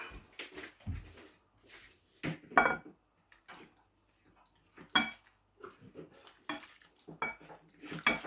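Pork being marinated in a pot for pork and chicken adobo, with scattered clinks and knocks of pots, utensils and kitchenware and soft splashing movement, close and intermittent with quiet gaps between.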